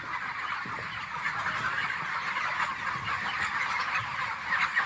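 Black broiler chickens kept in a poultry shed, a continuous faint chorus of overlapping clucks and calls from many birds at a distance.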